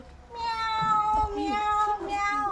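A person at a theatre workshop imitates a cat, giving a drawn-out, wavering meow up close, about two seconds long.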